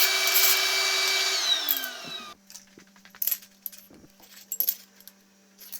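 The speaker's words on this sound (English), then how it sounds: "I'm just deburring all the edges." Power tool deburring the edges of 1/16-inch-wall steel tubing while building a chainsaw mill: a loud, steady high whir winds down after about two seconds, followed by quieter scattered metallic clinks and scrapes.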